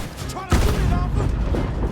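A burst of gunfire from the Red Dead Redemption 2 video game, a sharp loud blast followed by rumbling shots and action noise, with voices talking over it.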